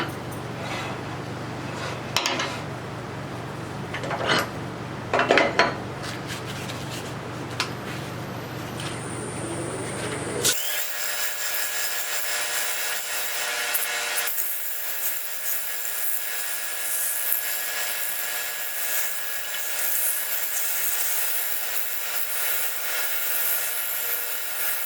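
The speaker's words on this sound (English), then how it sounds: "And I think we are ready to sand." Wood being sanded on a lathe during face turning: a steady, loud whirring rasp of the spinning workpiece and abrasive that runs continuously through the second half, after quieter scraping and knocks.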